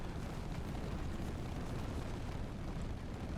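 Bombs going off in the Split Fiction video game: a dense, continuous roar of explosions and rumbling blasts, fairly quiet overall, with no talking.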